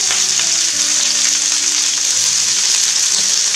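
Vegetables for a Corsican ciambotta sizzle steadily in a pan as they cook down, a loud, continuous close hiss with faint stirring under it and no voices.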